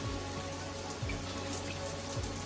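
A shower runs on the hot water side and spits dirty water after pipe scale, a steady close hiss and patter of spray with a few low gurgling bumps from the plumbing.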